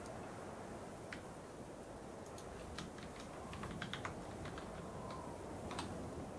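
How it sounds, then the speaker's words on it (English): Quick, light keystrokes on a computer keyboard, an irregular run of soft clicks under a steady background hiss, fairly quiet and close. "I wasn't finished typing."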